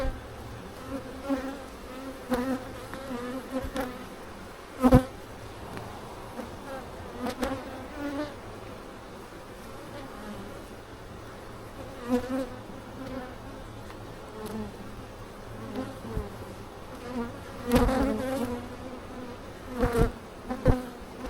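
Honey bees buzz steadily inside an opened nuc hive during a July queen search, a dense, close droning hum with occasional louder passes of individual bees near the comb.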